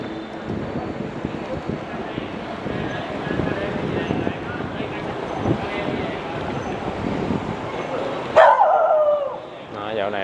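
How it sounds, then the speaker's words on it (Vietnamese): Guard dogs bark outside hotels along a quiet street in District 1, Saigon, with several barks rising near the end over someone talking and wind buffeting the microphone. "nuôi chó, nghe chó sủa giống như quê luôn"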